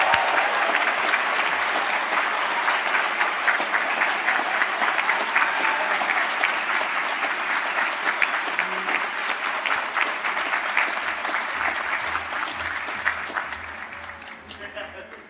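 A large audience at a Faculty of Applied Sciences & Technology conferring ceremony cheers and claps loudly. Dense, crackling applause runs for about fifteen seconds and gradually fades near the end.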